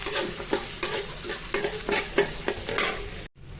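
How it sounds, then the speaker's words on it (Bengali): Chopped onion fries in hot oil in a cooking pot, with a steady sizzle broken by repeated scraping strokes of a spoon stirring in an uneven rhythm, close and fairly loud, ending in a brief silence. "পেঁয়াজটা আমি তেলে একটু ভেজে নেব"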